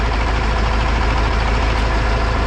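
A loud, steady engine drone with a continuous mechanical whine from an Ursus 1004 tractor gearbox in the fast range, close up and unchanging throughout.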